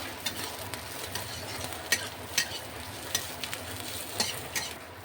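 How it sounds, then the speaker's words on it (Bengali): Chopped onions frying with a little salt in a pan, a steady soft sizzle broken by several sharp scrapes of a spatula stirring, with no talk. "পেঁয়াজগুলো ভাজার জন্য সামান্য একটু নুন দিয়ে দিচ্ছি পুরো হালকা লালচে করে ভাজবো"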